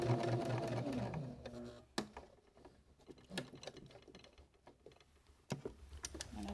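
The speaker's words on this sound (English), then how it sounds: "I just want to stitch kind of straight down this edge here as best I can so that my stitches don't show" A sewing machine stitches a straight seam along the edge of an upcycled shirt, a brief hum at first, then quiet with scattered clicks and handling taps from the fabric being turned.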